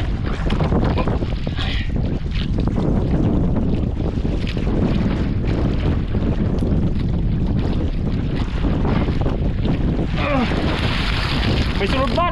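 Strong wind roars across a small boat at sea off Bulan, Sorsogon, in rough weather, a loud, continuous buffeting rush mixed with waves and water splashing, microphone overwhelmed by gusts throughout.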